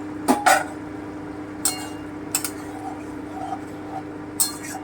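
A metal lid clinks against a cooking pot of goat liver and potato curry as it is lifted: a few sharp clinks, a couple of fainter taps after, over a low steady kitchen hum.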